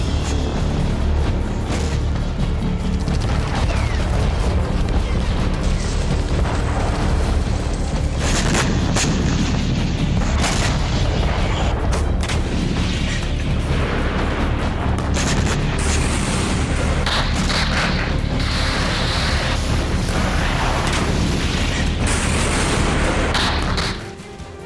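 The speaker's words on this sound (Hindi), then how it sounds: "रूस की आर्टिलरी ने बेतहाशा गोलीबारी की" Russian artillery fire over Severodonetsk, a dense, loud barrage of booms and blasts that rumbles without pause for nearly the whole stretch before cutting off abruptly.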